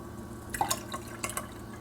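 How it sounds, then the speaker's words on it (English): Water poured into cups while making a sugar-free drink in a home kitchen, heard as a few soft, close splashes and drips in quick succession, quiet and without talk. "in each cup I will put 2 cups of water"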